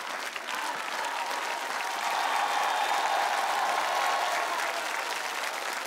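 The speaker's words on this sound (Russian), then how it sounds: "зал аплодирует стоя" A studio audience at the Russian TV show Mask, season 2, gives a standing ovation: dense, sustained applause that fills the room, swelling slightly midway and carrying on steadily without letting up.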